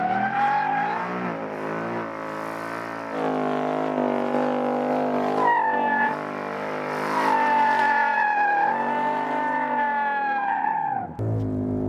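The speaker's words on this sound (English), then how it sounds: "You wanted a big burnout, right? Yeah, we gotta have a big smoky." 2018 Ford Mustang RTR doing a big smoky burnout, the engine held high at full revs with wavering pitch and screeching tyres, loud and close for about eleven seconds before the revs drop off abruptly.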